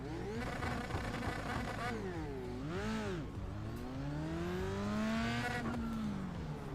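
A Formula 3 open-wheel race car in the iRacing sim launches with the clutch released too quickly: the engine holds at high revs, dips and wavers as the wheels spin, then climbs steadily under power, loud and close.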